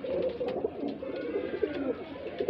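A desi high flyer pigeon coos up close in a continuous low, throaty murmur, its soft rolling notes swelling and dipping without a break, with no one talking.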